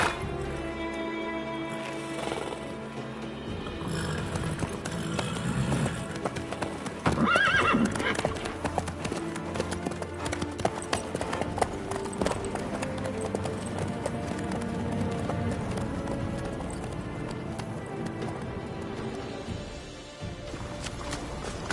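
A horse's hooves clip-clop steadily along in The Witcher 3: Wild Hunt, with whinnying neighs breaking through the continuous game soundscape.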